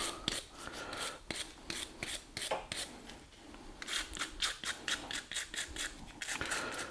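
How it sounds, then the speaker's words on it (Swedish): A nylon brush scrubs the fine mesh filter of a Haldex 5 coupling from a Volvo XC70, making quick repeated bristly rasps in close, uneven bursts. "Tar och borstar lite. Det är en nylonborste där"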